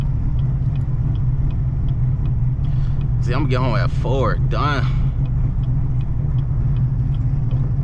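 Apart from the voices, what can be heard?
Chevrolet Camaro ZL1 engine rumbling while driving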